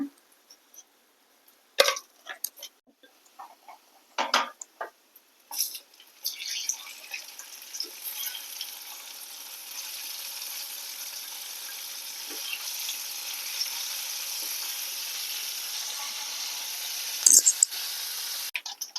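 Mustard seeds hit hot oil left over from frying gooseberries for pickle, giving scattered sharp pops and splutters at first, then settling into a steady, close sizzling hiss with a few louder crackles near the end.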